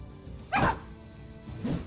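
A dog in the video game Battle Brothers yelps as it is hit, two short sharp cries about a second apart, close and clear against quiet background.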